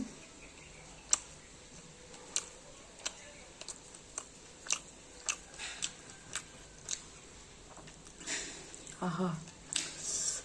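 Close chewing and biting on flaky parotta with prawn fry, wrapped in a leaf parcel: a run of sharp wet bites and smacks at a steady pace, close to the mic, with soft handling rustle near the end.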